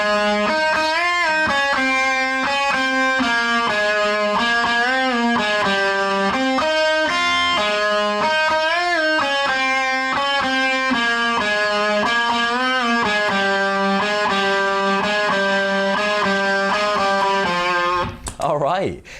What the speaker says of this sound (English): I'm also going to show you the solo, which sounds like this.